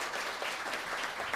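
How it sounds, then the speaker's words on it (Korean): A roomful of people at a Gwanak-gu policy forum on student safety claps in a thick, continuous wash of applause, even in level throughout with no voices on top. "앞으로 훌륭하게 역할하실 수 있도록 박수 한번 좀 보내주셨으면 좋겠습니다."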